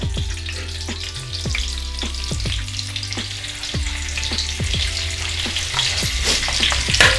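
Cumin seeds sizzle and crackle in melted butter and oil for pav bhaji, a steady close frying hiss with clinking of a spoon against the pan and no voices.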